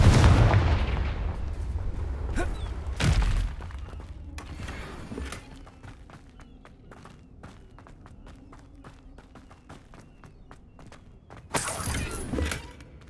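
Hogwarts Legacy gameplay: a Confringo fire spell sets off booming explosions, with a heavy blast at the start and another near the end, linked by quieter rumble, scattered crackles and footstep-like taps.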